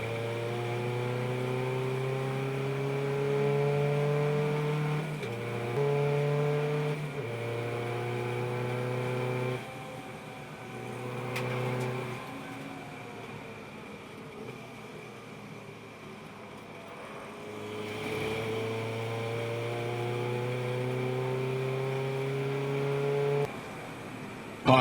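Race cars on the Donington Park circuit during a trackday championship race: engine notes rise and fall as cars accelerate and pass one after another, with strong revving tones heard from a moderate distance and no voices.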